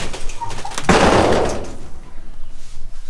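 A food truck canteen's door is pushed open with a loud, close thud and rattle, followed by a brief rush of noise that fades into quiet, faint movement.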